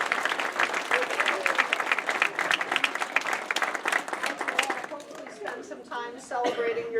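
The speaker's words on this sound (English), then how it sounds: "please join me in giving one final round of applause to welcome the newest Palmer West chiropractic" Audience applause at an intern pinning ceremony, many people clapping briskly together, loud and sustained before thinning into scattered claps and cheers toward the end.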